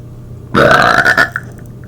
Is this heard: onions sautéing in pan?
no